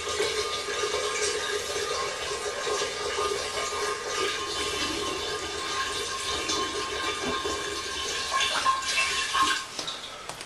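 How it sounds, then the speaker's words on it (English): A full gallon of cleaning solution streams steadily through a funnel into a glass wine carboy, a continuous close gurgling pour lasting throughout. "I pour the whole gallon."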